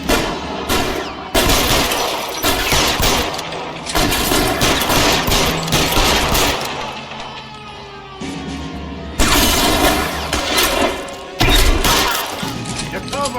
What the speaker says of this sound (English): Lay down for cover fire.